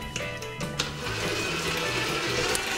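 An electric mixer whirs steadily while creaming sponge cake batter in a bowl, a close, even motor hum with a slight wobbling pitch and faint rattles as the beaters work through the mix.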